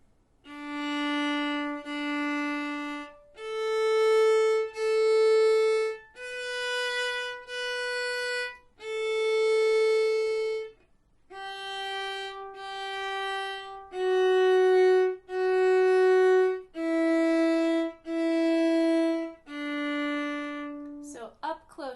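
A solo viola plays Twinkle Twinkle Little Star starting on open D, with paired, evenly bowed notes and short breaths of silence between phrases. Close and clear, no speech.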